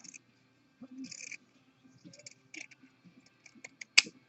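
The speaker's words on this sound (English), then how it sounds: "I use pinking shears and cut right on the basting line." Pinking shears snip through fleece fabric along a basting line, giving scattered short crisp cuts and clicks with quiet gaps between them, close and fairly soft, ending in one sharper snip.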